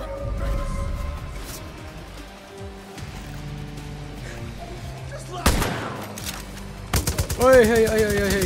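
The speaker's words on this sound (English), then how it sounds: "Oi, machine gun eh." In Far Cry New Dawn, rapid machine gun bursts rattle out, loudest in a sharp volley near the middle and a long rapid string of close shots toward the end, with people talking over the action.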